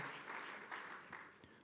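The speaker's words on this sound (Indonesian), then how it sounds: "Mari beri tepuk tangan yang meriah bagi Tuhan kita." A church congregation at a Sunday worship service gives a round of applause, quiet and somewhat distant, with a few stronger swells of clapping rising and easing off over a couple of seconds.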